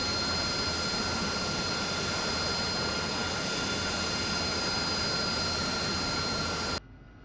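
A steady, loud roar from a jet aircraft engine during takeoff in DCS, holding a constant whine and rumble with no talk, then cutting off sharply just before the end.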